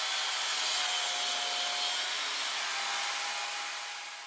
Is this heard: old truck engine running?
no